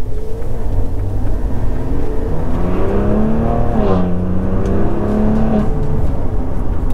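A 2020 Maserati Levante engine accelerating in sport mode, a loud steady rumble with rising and falling harmonic engine tones as it revs up, then settles under continuous road and cabin noise.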